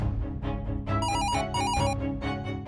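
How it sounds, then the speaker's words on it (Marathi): A telephone in a Marathi family drama scene rings in two short bursts of electronic trills over a steady musical background, with no talk. "इथे उचकी लागली आणि तिथे फोन वाजला."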